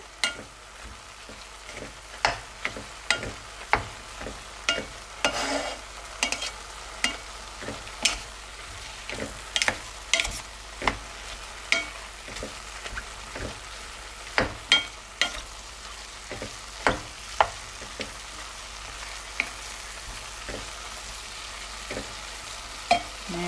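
Beef chili fries in a pot with a tablespoon of tomato paste stirred in, making a steady soft sizzle with regular sharp scrapes and taps of the spoon throughout, with no voice.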